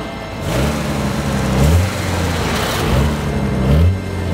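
A Jaguar E-Type engine fires up and revs in two strong bursts, the low throaty note rising and falling before settling, loud and close with no talking.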